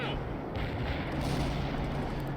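Artillery barrage in the World in Conflict video game, heard as a dense, continuous low rumble of distant shelling with no distinct individual blasts, steady and fairly loud throughout.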